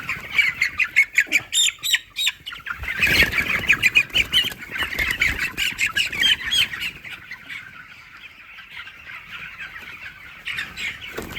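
Broiler chickens on a poultry farm squawk and cluck loudly and repeatedly in a close, agitated burst, with some wing flapping as a young bird is grabbed for weighing.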